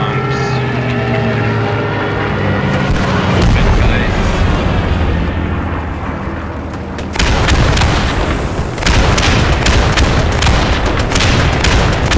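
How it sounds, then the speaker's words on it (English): Bombing explosions in the WWII shooter Post Scriptum land as loud, deep booms and rumbling blasts, with a sharp new burst midway that sets off a dense, crackling barrage. "Bombing coming."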